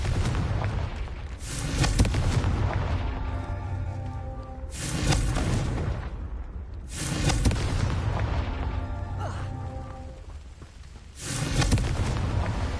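Confringo explosion spells in Hogwarts Legacy burst repeatedly, giving four loud booming blasts spaced a few seconds apart, each followed by a rumbling decay, with no speech.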